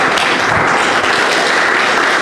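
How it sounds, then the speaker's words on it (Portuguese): A church congregation claps together in steady, dense applause, a loud continuous patter filling the room without a break. "por Senhor Jesus, mais uma linda ação de palmas, amém?"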